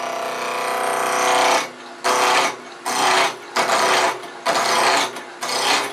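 A wood lathe spins a poplar blank at a couple of thousand RPM while a turning tool rides the bevel, producing loud sustained rasping bursts that cut in and out several times.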